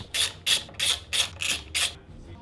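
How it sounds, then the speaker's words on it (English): A ratchet wrench tightens the fork pinch bolts on a 1994 Kawasaki KX250 during a rebuild, giving six evenly spaced, close, crisp raspy strokes about a third of a second apart, then stopping, with no talking. "then you tighten up the 8 pinch bolts"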